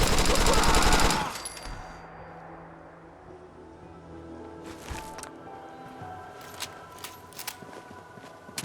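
Rapid automatic gunfire from the video game Fallout 4, a dense loud burst in the first second, then scattered sharp single shots and faint clatter over a quieter background.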